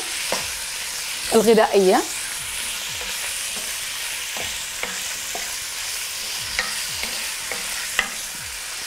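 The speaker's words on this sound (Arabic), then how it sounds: "دائما من نقلي اللحم قلي بسيط" Meat frying in a pot for a potato and curry stew while being stirred, a steady close sizzle broken by scraping spoon strokes and a short clatter early on, with a brief word spoken.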